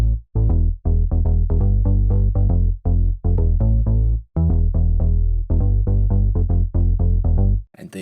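Two layered synth bass lines, one from the June 6.5 plugin, play a punchy, slightly clipped rhythmic pattern of short repeated notes with brief gaps, loud and upfront with nothing else.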